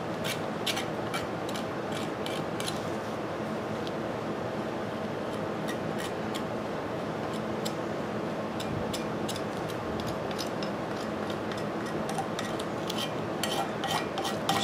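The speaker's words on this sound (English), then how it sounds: "it's hardened up enough that I can cheese grate it now" Hardened body filler on a motorized scooter build being rasped with a cheese grater file, a steady scraping texture running continuously throughout with repeated short strokes, fairly close and with no talking.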